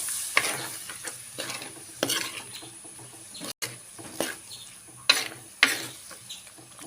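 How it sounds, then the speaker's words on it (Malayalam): Shark curry masala being stirred in a frying pan: scraping strokes and spoon clacks at irregular intervals over a soft background sizzle, close and fairly quiet. "എന്നിട്ടൊന്ന് വഴക്കി കൊടുക്കാം"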